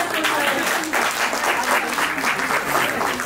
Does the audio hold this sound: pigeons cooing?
no